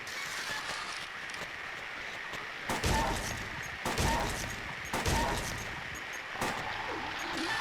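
Gunfire from a shooting sequence in the 2001 survival horror game Silent Hill 2: four loud, broadband shots spaced about a second apart over a steady ambient game drone, with no talk.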